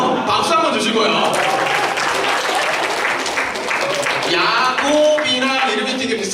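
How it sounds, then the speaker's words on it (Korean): Church youth-service audience bursting into applause, a dense sustained patter of many hands clapping loudly for several seconds, with voices mixed in. "박수 한번 주시고요"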